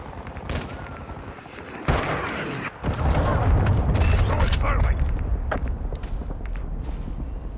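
A cruise missile strike in the Call of Duty: Modern Warfare II video game, with sharp gunfire cracks followed by a heavy sustained rumbling blast and debris under game voice announcements.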